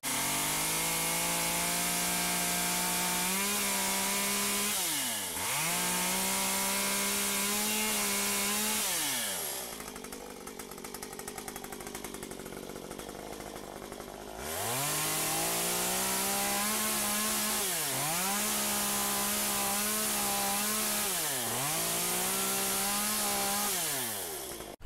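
A chainsaw cuts into a tree trunk while carving a small bear, the engine droning loud and close, dipping under load during cuts, easing to a brief idle, then revving back up for more cuts.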